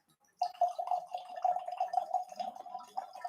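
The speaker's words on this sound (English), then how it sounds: "let's go ahead and do a pour" Tesla mezcal pours into a glass as a faint, steady liquid trickle that lasts about three seconds after a short silence.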